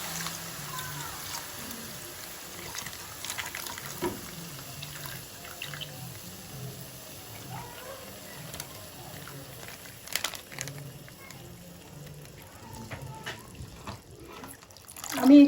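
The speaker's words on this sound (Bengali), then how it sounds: "এইবারে আমি এতে দুধটা দিয়ে দিচ্ছি।" Milk poured into a pot while making bottle gourd payesh, a steady, faint liquid trickle with small splashes that stays quiet and even throughout.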